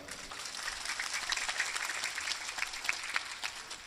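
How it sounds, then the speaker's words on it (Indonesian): Audience applause at a village Maulid Nabi commemoration event in Indonesia, a steady dense wash of many hands clapping that sustains evenly for several seconds with no speech over it. "Tepuk tangan untuk beliau."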